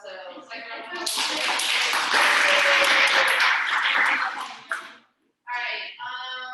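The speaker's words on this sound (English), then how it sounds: "So second round of applause." Clapping from the audience at a poetry open mic, a sustained wash of hands lasting around four seconds, with a voice speaking just before it starts and again after it stops.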